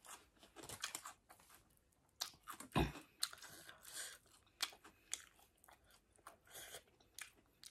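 Someone chews crunchy fried Isan sausage close to the microphone, with irregular crisp bites and crunches, some sharper snaps among softer chewing, fairly quiet overall.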